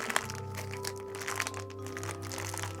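Plastic packaging for a World of Zombies toy set being opened, a close, steady run of crackling and crinkling with a few sharper cracks, heard alone without talk.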